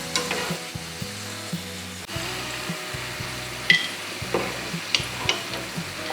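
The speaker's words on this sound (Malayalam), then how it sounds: "കുറച്ച് കാഷ്നട്ട് കുറച്ച് മുന്തിരി അതും കൂടി ഒന്ന് ഫ്രൈ ചെയ്തെടുക്കാം" Cashews and raisins sizzle and crackle in hot oil, with occasional stirring clinks and scrapes against the pan; no talking.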